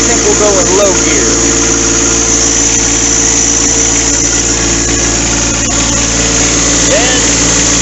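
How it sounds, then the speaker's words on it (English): A new John Deere 4x4 tractor engine runs at a steady, loud drone with constant vibration and low rumble, people talking intermittently over the engine. "We're driving the tractor."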